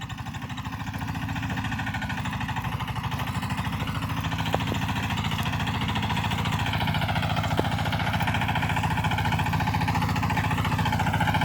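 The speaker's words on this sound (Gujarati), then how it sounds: "ટ્રેક્ટર હાલવાનું ચાલુ થઈ ગયું" A tractor's diesel engine chugs at a steady idle nearby, a low rhythmic throb that grows slightly louder and holds constant throughout.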